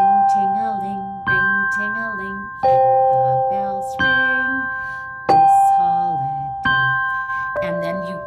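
Orff classroom barred instruments play a holiday arrangement, struck notes ringing and decaying in a steady sequence of bell-like tones, with the soprano part sounding an octave above the bass line.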